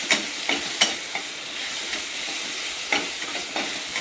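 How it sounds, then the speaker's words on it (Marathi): A grated raw potato and poha mixture seasoned with turmeric, red chilli and ajwain is sautéed in a pan over low heat, with a steady soft sizzle and a spatula scraping and stirring in irregular strokes. "बारीक गॅसवर चांगलं परतून द्यायचं।"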